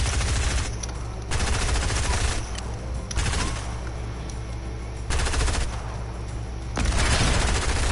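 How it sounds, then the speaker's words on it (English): Rapid automatic gunfire from a video game battle, several loud sustained bursts separated by brief pauses, close and dense with no talking over it. "Whoever's shooting at me, please stop."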